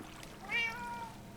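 A Minecraft cat gives a single short, faint meow over a quiet background.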